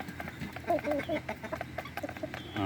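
Hens clucking on a backyard poultry farm while feeding after laying eggs, a scatter of short, moderately close clucks and calls over faint background noise.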